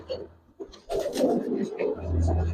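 A Giribaz pigeon gives soft, low coos close by, mixed with brief rustling and a low hum, with a voice talking intermittently.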